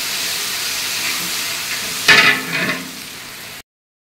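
Garlic sizzles steadily in hot oil in a pan, with a sharper burst of hissing midway as it is stirred, close and fairly loud, then cutting to silence.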